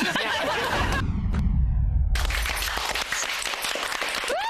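Studio audience applauding for AF11 guests on a Thai entertainment show, a steady dense wash of clapping with brief bursts and breaks, loud and close throughout.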